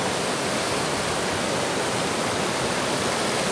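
River water flows in a dense, unbroken rush that stays steady and fairly loud from start to finish, with nothing else standing out.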